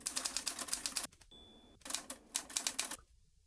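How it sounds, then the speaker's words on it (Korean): Keys clack on a typewriter in rapid bursts of strikes, broken by a short pause and a thin ringing tone, then more quick typing before it stops. "자, 이렇게 열심히 타자 치고"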